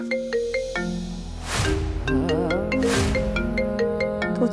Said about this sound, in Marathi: फोन वाजू दे तिकडे